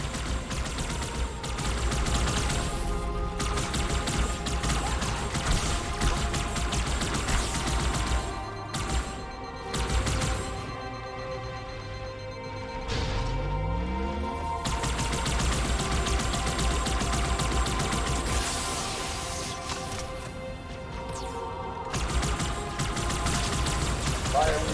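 Rapid energy weapon fire from a plasma rifle in Halo 2 Anniversary, with sustained bursts of shots over a dense game soundscape, continuing nearly throughout with a few brief pauses.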